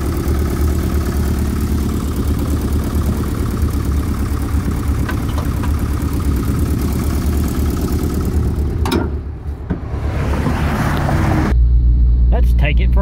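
An old, cheap car engine idles steadily and close by, a continuous low rumble that holds even for most of the stretch, then drops briefly and settles back into a deeper, steadier idle near the end.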